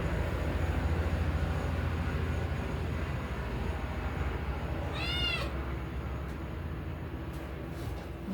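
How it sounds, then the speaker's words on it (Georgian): A domestic cat meows once, a short, clear, fairly close call over a constant rumbling background that resembles passing train noise, with no talking. "თულა ჩხავდა"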